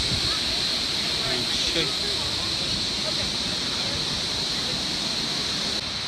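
Wahkeena Falls in the Columbia River Gorge, a loud, steady roar of rushing water from close by that fills the whole stretch, with a voice talking faintly under it.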